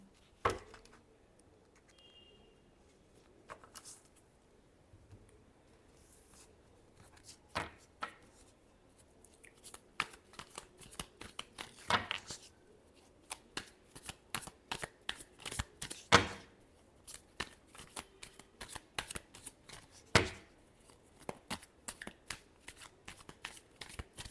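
Tarot cards are shuffled close up for a reading, in a string of crisp riffling and tapping bursts with short gaps between them and no voices.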